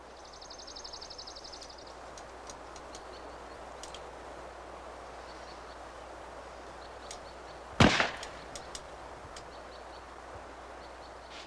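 A ranger fires a single lightweight, plastic-bullet-like cartridge to scare off a bear: one sharp, loud bang with a brief crackling tail, standing out against a quiet outdoor background.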